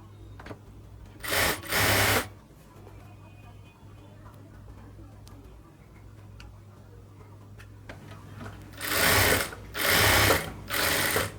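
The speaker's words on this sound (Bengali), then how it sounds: "ঠিক সেম ভাবে ধরে এবার আমি আস্তে আস্তে পুরো জামাটাকেই সেলাই করব।" A sewing machine stitches the side seam of a garment in two loud, rapid whirring bursts, one short and one longer, separated by a quieter stretch of low hum and faint handling clicks.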